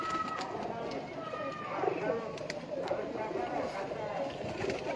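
Pigeons coo in low throaty calls amid a busy flock, with someone talking over them the whole time.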